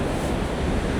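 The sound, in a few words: Atlantic ocean waves and wind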